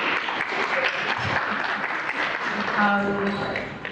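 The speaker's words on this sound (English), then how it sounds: "Feel free to clap if you want to." A crowd applauds steadily for several seconds, a dense patter of clapping with a voice speaking briefly near the end.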